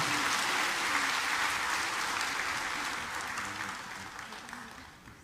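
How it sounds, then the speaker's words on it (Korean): A congregation at a Sunday church service applauds to bless a child, giving steady, dense clapping from the start that slowly fades over about five seconds. "우리 박수로 이 아이를 축복합니다"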